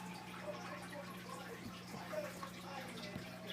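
Homebrew beer from a Mr Beer kit running into a bottle, a quiet continuous trickle and fill with faint drips, steady and close, no talking.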